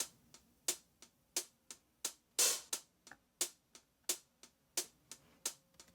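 Crisp, sharp hi-hat hits repeating in a chopped, slightly uneven loop, with one longer open hat midway. No voices.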